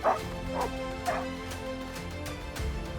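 Dogs barking to defend their owner from a pair of coyotes outdoors, with a few sharp yips and barks spaced over a steady background rumble, moderately near.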